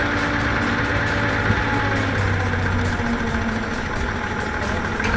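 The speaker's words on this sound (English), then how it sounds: "Military rocket launcher truck, a truck that carries and launches rockets." A military rocket launcher truck's heavy engine idles in a steady, loud low rumble with a constant mechanical drone, holding even for the whole stretch with no voices.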